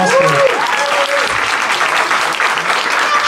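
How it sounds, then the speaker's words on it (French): Studio audience at a talent competition gives a loud, continuous round of applause, dense clapping with a few scattered voices calling out over it. "On l'applaudit encore."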